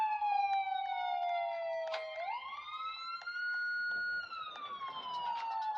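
An ambulance siren in the Roblox game Maple Hospital wails with a slow, smooth pitch drop, rise and fall, ringing clearly and steadily, with faint clicks underneath.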